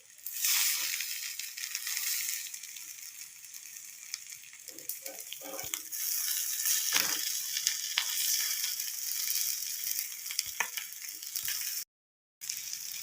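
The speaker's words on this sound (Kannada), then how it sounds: "ನಿಧಾನಕ್ಕೆ ಫಿಶ್ನ ಪ್ರೆಸ್ ಮಾಡಿ ಚೆನ್ನಾಗಿ ಬೇಯುತ್ತೆ" Mangalore-style fish fried on a tawa with a little oil, a steady close sizzle throughout, broken by a few soft scrapes and presses and one brief dropout near the end.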